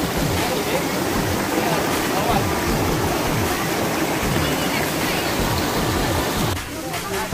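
Steady roar of Tulo Tulo Falls in Sitio Silid, Bulacan, Philippines, fills the clip, a constant dense rush with no breaks, close by.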